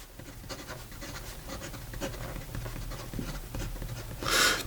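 Fountain pen, an ASC Bologna Arco filled with Pilot Iroshizuku ink, scratching and gliding across paper in short irregular strokes, faint and close, with a louder rustle near the end.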